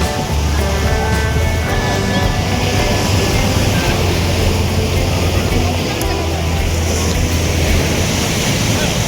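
Strong high-tide sea waves at Bakkhali beach, a loud continuous roar and wash of surf close by, with faint voices underneath.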